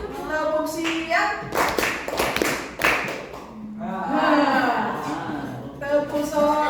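A class joins a teacher in a rhythmic Indonesian clapping game, sharp bursts of hand claps falling in patterned groups, mixed with lively voices chanting and calling out between rounds.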